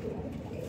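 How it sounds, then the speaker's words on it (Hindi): A teddy pigeon, a fancy domestic breed, gives a brief, low, muffled coo, close and soft. "ये टेडी कबूतर है"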